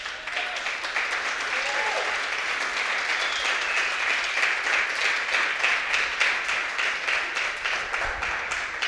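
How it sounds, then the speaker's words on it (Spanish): A church congregation at a Sunday celebration service claps together, a loud, sustained burst of applause holding steady for several seconds with no talk over it. "Dense un aplauso a ustedes."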